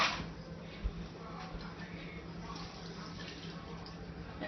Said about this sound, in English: And then you cover it with water